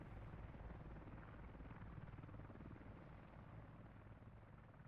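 Two helicopters fly toward an abandoned Soviet base in a video game. Their rotors make a steady, dense, roaring drone that fills the whole stretch without pause. No voices are heard.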